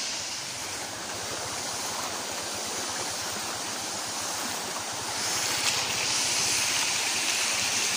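River water rushing steadily near Mantayob waterfall in Barangay Bunog, Rizal, Palawan: a continuous broadband roar with no voices, growing slightly louder partway through.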